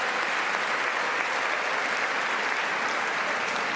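Applause at the 2019 State of the Union address: a large chamber audience claps in a steady, dense wash that holds at full strength throughout, with no voices standing out.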